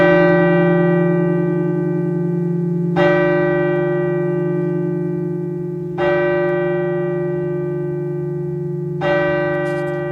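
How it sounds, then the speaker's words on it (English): A church bell tolls four times, slowly and evenly spaced about three seconds apart, each strike clear and resonant with a long ringing decay, heard alone after a silence at an outdoor rally. "There was that moment of silence, the bell rings out"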